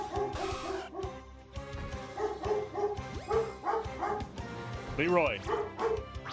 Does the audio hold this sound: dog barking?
yes